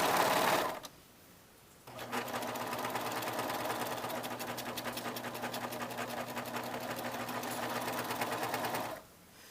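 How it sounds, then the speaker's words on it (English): Serger overlock sewing machine stitching the seams of a pair of pants, running in one continuous fast, rattling hum for several seconds, close and steady, after a brief quiet start. "So I'm going to serge these two seams."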